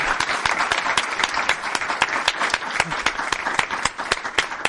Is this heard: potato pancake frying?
no